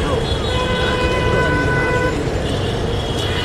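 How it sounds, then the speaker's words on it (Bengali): A metro train runs past in Dhaka as a steady, loud rumble with high whining tones. The noise is constant and dense, with a voice talking faintly underneath. "ওই যে ট্রেন যাচ্ছে, ওই দেখা যাচ্ছে ট্রেন"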